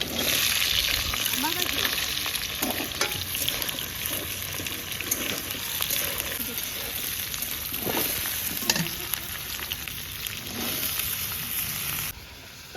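Chopped vegetables frying in hot oil with panch phoron, whole dried chillies and bay leaf, giving a continuous loud sizzle with stirring and scraping, close by, with no speech over it.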